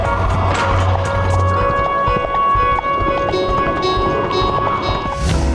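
A small Mongolian horse carries a rider, its hooves clip-clopping in a steady, close rhythm over a continuous bed of background sound.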